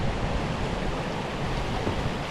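Water flowing down from a waterfall along a man-made channel over a cobbled bed, a steady broadband rushing close to the microphone, continuous and alone.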